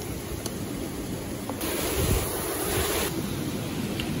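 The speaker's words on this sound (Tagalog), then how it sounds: "malakas yung ano, hangin" Strong wind blows by the sea during a storm while fishing, a steady mid-level roar of gusts mixed with rolling surf, continuous throughout with slight swells and no voices.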